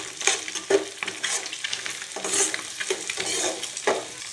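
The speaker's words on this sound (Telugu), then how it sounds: "వేసుకున్న తర్వాత చాలా బాగా కలుపుకోవాలండి. బాగా ఫ్రై అవ్వనివ్వాలి." Eggs and onions stir-frying in a pan, a steady sizzle broken by repeated scraping stirs of a spatula at a close, even level with no talking.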